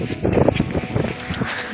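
Strong, gusty wind buffets an outdoor fishing spot on a cold day, giving a close, irregular rumbling roar with uneven bursts.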